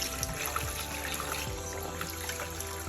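Tap water runs steadily while cabbage is rinsed for traditional kimchi, making a close, continuous trickling splash with faint clinks and no speech.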